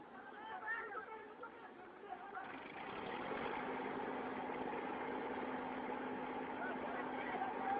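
Loaded tractor engine idles steadily with a low drone and a faint tonal hum, starting quieter then rising and holding; agitated voices and chatter run over it throughout.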